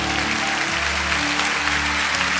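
A church youth conference congregation applauds, a steady, dense wash of clapping heard alone over a low sustained musical drone.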